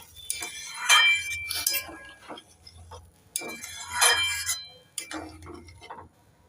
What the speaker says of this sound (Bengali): জল নেড়ে চেড়ে দিয়ে দেব